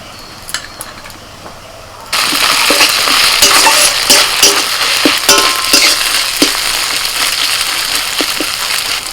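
Ginger, garlic and green chili paste hitting a pan of fried onions, a sudden loud burst of sizzling that settles into continuous frying with scattered stirring clinks.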